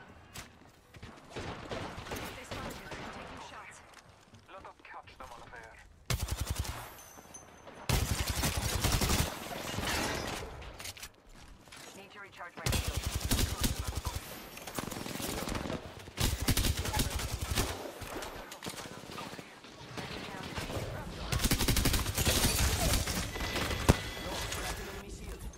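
Repeated bursts of automatic gunfire in the battle-royale shooter Apex Legends, Season 17 ranked play, loud and close, coming in clusters separated by brief lulls, with a voice speaking in the background during quieter moments.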